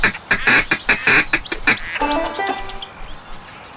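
Ducks quack in a Duck Dynasty hunting video game, a loud rapid run of close, clipped quacks followed by a softer, more drawn-out call trailing off, with no talk.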